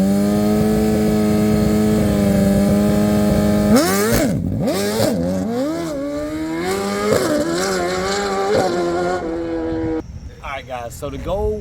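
A drag racing motorcycle engine on a track in Antigua idles with a steady buzzing drone, then revs hard in repeated rising and falling surges, loud and close, before dropping away as the engine settles.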